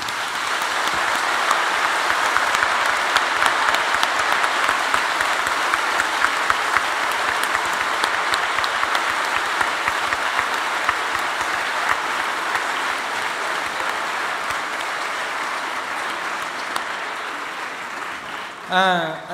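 Sustained audience applause after a lecture on out-of-body experiences research, a dense, even wash of many hands clapping that holds steady and loud for nearly twenty seconds before cutting off, with a brief voice at the very end.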